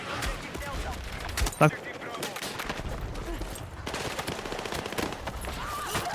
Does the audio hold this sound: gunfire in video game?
yes